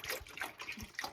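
Liquid poured from one container into another while making homemade L. reuteri fermented yogurt, a short close splashing trickle with uneven gurgles.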